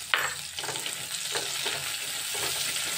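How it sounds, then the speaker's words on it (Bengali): Chopped onions fry in a pan for palong chingri, giving a constant close hiss and sizzle with a few soft stirring scrapes. "পেঁয়াজ কুচিগুলো আমি একটু ভেজে নিচ্ছি।"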